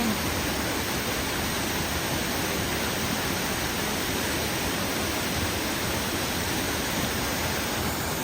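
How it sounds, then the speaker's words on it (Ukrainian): Kamianka waterfall heard up close, a constant, loud, broadband rush of falling water with no break or change throughout. "Ось вже поближче той водоспад, давайте я вам покажу його."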